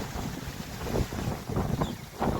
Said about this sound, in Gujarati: આ બાજુ જુઓ કેટલો પવન છે